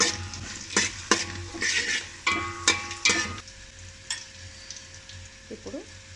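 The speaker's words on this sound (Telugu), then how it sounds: "బిర్యానీ ఆకు వేసి అలాగే మనం తీసుకున్న లవంగ, చెక్క, ఇలాచి, దంచి ఉంచుకున్న ఇలాచి కూడా వేసి కొద్దిసేపు మనం వేగనివ్వాలి" Bay leaf, cloves, cinnamon stick and crushed cardamom sizzle in hot oil for coconut rice, broken by a run of sharp, close stirring scrapes that fade toward the end; no one speaks.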